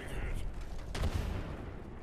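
A grenade goes off in the shooter Apex Legends, a single heavy burst roughly midway through, set amid ongoing gunfire with a player talking over it.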